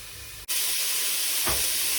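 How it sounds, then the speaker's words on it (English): A loud, broadband hiss bursts in after a brief dip and holds steady as onions hit a hot pan and sizzle vigorously. "You should be able to start hearing the sizzle in the pan."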